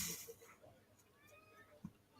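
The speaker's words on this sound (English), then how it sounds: "I'm hearing cats." A house cat meowing faintly in the background, a few soft drawn-out cries over a quiet room with low, indistinct murmuring.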